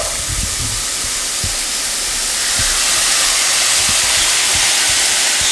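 Food sizzles loudly and hisses in a hot pan, a steady broad frying roar with occasional low knocks as the pieces are flipped and tossed, without speech.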